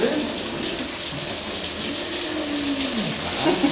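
Steady rushing water from a shower runs continuously, fairly loud and close, a constant broadband hiss with no talking over it.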